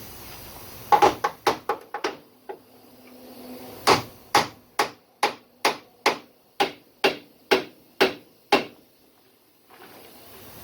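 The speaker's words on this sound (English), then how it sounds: "Hammer." A hammer strikes steering parts during a one-ton steering install on a truck. About fifteen sharp, close blows land in two bursts: an uneven cluster first, then a steady rhythmic run, with no talking.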